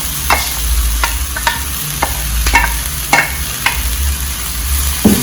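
Shrimp sautéing with seasonings in a pan, a steady sizzle broken by repeated scrapes and clicks of a utensil stirring, close and fairly loud, with no voices.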